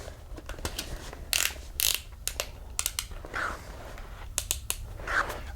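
Optrel Panoramaxx welding helmet headgear ratchet being loosened, giving a scatter of dry clicks and snaps in short irregular bursts, close and fairly quiet over a low steady hum.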